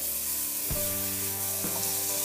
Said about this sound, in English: Here I'm going to fry for meat and onion. First you have to add butter.